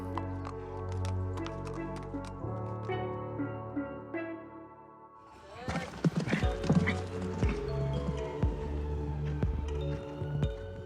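Horse hooves clip-clop at a riding club in Brixton, steady taps over a dense mix of music-like tones and background sound, busier in the second half.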